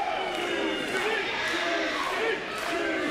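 Pro wrestling crowd at the Austin Sports Center chanting for wrestler Cherry Ramons, a loud, dense, rhythmic chant from a packed arena that fills the whole moment.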